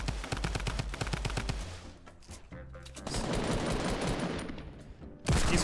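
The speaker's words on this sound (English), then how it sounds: "Shooting the tree, so you save your ammo." Rapid automatic gunfire from the Fortnite video game rattles out in a fast, loud burst, then gives way to further shots and game effects, closing with another loud blast.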